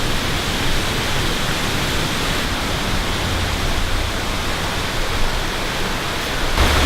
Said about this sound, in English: we can hear the sound of the water